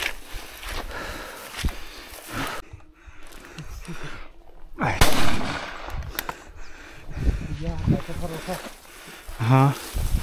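A sharp, loud shotgun shot bursts out amid outdoor noise while duck hunting in the taiga, followed by rustling and handling sounds, with brief faint chirps near the end.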